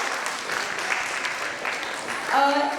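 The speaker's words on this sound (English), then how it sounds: "And a big round of applause for Anav's parents" A ceremony audience gives a steady, moderately loud round of clapping that continues for a few seconds, with a voice starting to speak near the end.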